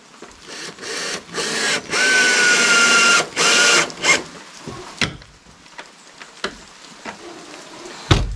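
A battery-powered drill drives screws while a wooden aviary door is built, giving several sustained whirring bursts of a second or so each, followed by scattered sharp knocks and clicks, close and loud with no voice.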